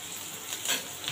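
Onion and dried coconut slices frying in hot oil for a Maharashtrian black-eyed pea masala, a steady close-up sizzle with a soft crackle and faint stirring, no talking.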